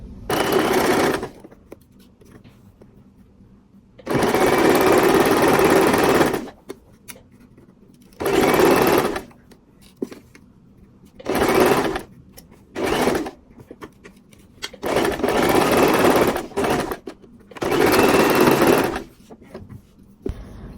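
Sewing machine stitching men's trousers in bursts, several runs of rapid close whirring lasting one to two seconds each, separated by quiet pauses with faint handling sounds.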